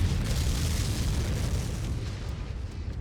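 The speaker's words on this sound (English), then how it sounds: "Jesus, explosion." A deep, rumbling explosion from the mech combat game MechWarrior 5: Mercenaries, a sustained low boom filling the full three seconds and slowly fading, loud and close with no voices.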